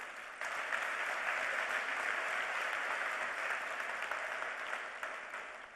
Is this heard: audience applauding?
yes